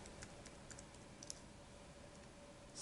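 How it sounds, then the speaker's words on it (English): Light, sparse keystrokes tapping on a computer keyboard, faint and close, with a few scattered clicks over quiet room hiss and no one speaking. "we're going to click on New Project, type in Shining"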